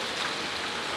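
Rain falls in a steady, even hiss of drops across a broad wash of noise, continuous and fairly soft throughout, with no voices.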